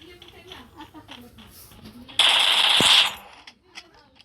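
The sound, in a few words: gunfire in a video game at the training ground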